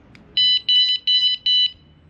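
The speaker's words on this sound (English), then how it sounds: "you get another beep, and that means now the alarm is armed and ready to go." A van alarm armed with a key fob gives four loud, evenly spaced electronic beeps in quick succession, close and alone with no talk.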